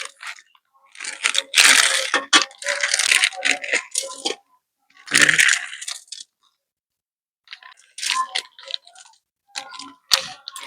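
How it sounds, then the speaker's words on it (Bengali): Four blocks of Maggi instant noodles are broken up by hand in a kitchen, giving loud, crisp crunching and crackling bursts in several separate bouts with short pauses between. "এখানে আমি 4টে ম্যাগি কেটে নেব"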